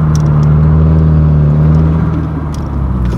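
A turbocharged Subaru engine droning loudly and steadily from inside the car, with a faint, barely noticeable blow-off hiss mixed into the continuous engine hum.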